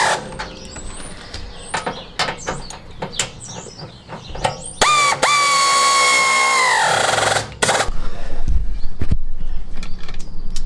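A power tool tightens bolts on the under-engine tinware of a classic Fiat 500, with short ratcheting bursts, a sustained whining spin of a couple of seconds, then a rougher buzzing run, all close and fairly loud.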